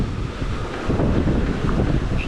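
Steady wind rushes over a sailboat at sea during a night crossing of the Gulf Stream toward the Bahamas, a broad continuous roar buffeting the microphone with faint water wash beneath, no voices.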